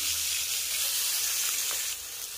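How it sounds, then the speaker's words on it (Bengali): Fresh river fish frying in hot oil, a close steady sizzle that stays even and drops slightly at the very end, with no talking. "এই মাছগুলোকেও এবার ভাজা করে নেব।"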